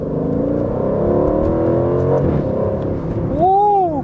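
An Aston Martin Vantage engine pulls hard through the gears, a loud sustained rising drone inside the cabin that dips and then sweeps upward again as it shifts near the end.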